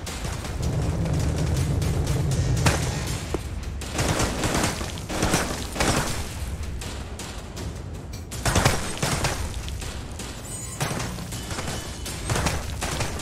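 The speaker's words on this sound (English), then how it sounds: "are you using the rocket launcher?" Continuous loud barrage of explosions and gunfire in a VR shooter game, dense booms and blasts one after another with little pause throughout.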